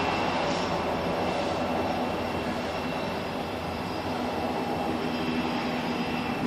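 Two BNSF locomotives pulling a train past during a lightning storm, a steady loud rumble and roar with no break across the whole stretch.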